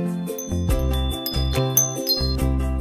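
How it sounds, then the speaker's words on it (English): A bell rings in a bright, tinkling jingle of repeated chimes, steady and close, with a musical tonal pattern and no voices. "B is for bell."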